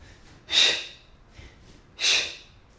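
Two loud, forceful exhales about a second and a half apart, the hard breathing of someone mid kettlebell workout, with quiet room tone between them.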